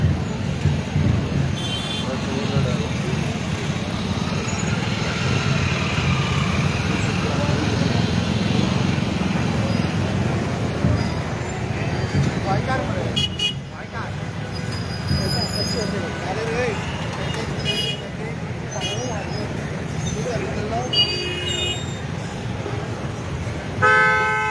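Jammed traffic on DB Marg in Panaji, slowed by festival floats: a steady roar of cars, trucks and motorbikes with repeated car horn toots near and far, while voices murmur underneath throughout.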